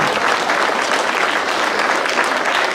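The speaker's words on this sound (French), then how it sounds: "donc vous pouvez encore les applaudir une nouvelle fois." An audience applauds students at a gastronomy salon in Le Mée-sur-Seine, the clapping dense, steady and loud throughout, with no voices standing out.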